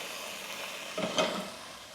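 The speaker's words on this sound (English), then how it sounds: "Into that, I'm gonna add our capers, about 1/4 cup of capers. I'm just gonna fry them a little bit." About a quarter cup of capers frying in a pan, a soft steady sizzle with a brief louder crackle and spatter partway through.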